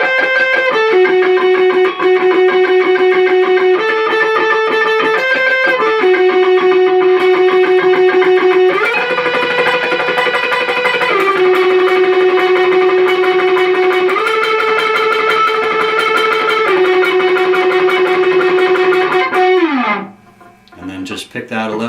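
Electric guitar solo played with fast tremolo picking, sustained rapid notes stepping between pitches, loud and clear, ending with a slide down.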